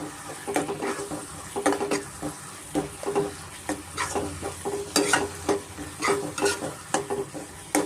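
Spiced chicken fry stirred in a pan with chili powder, coriander powder, garam masala and cumin, giving a soft continuous sizzle broken by repeated close scraping and clattering strokes of a spoon against the pan.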